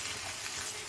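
Egg and banana flower fry in a pan, a steady, even sizzle with a hissing texture that holds throughout the brief moment, fairly quiet and heard alone.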